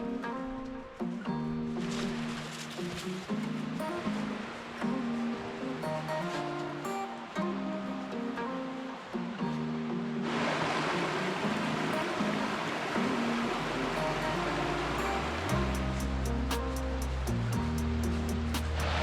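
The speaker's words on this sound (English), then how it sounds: "I think we are at the top of the waterfall. That looks like it just plummets." A waterfall at the top of a drop on the Deans Ravine hike in Connecticut gives off a steady, loud rush of falling water, with brief shifts in tone and a heavier surge partway through.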